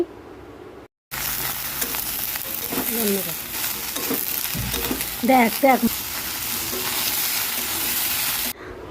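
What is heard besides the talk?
ridge gourd and potatoes frying in a pan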